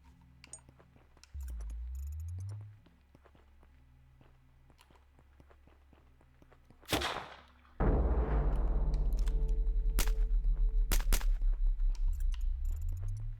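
A bass-heavy gunshot effect in a game under development fires twice, each a sharp, loud crack with a deep low-end boom, amid quieter mechanical clicks and a pulsing low hum.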